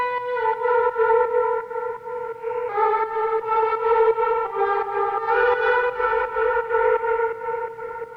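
A sustained, harmonically rich synth tone panning and moving, held even by a FabFilter compressor, with drenched effects, distortion and echo; its pitch shifts in steps across the passage at a steady, levelled loudness.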